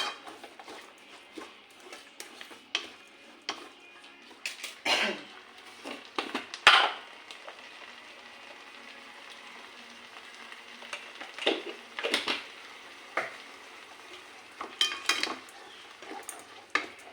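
Turmeric and salt being stirred into a pan give irregular scraping and clinking of a spoon against metal over a faint frying hiss, with scattered louder knocks and long quieter stretches.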